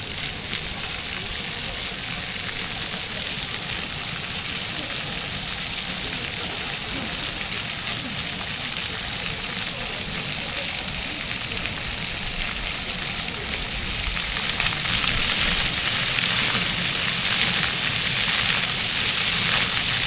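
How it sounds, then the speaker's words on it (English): Steady broadband rush of water pouring and splashing from a fountain waterfall on Union Street in Aberdeen, continuous and fairly loud, swelling slightly louder toward the end with faint outdoor street ambience. "just as I pan round from the waterfall there"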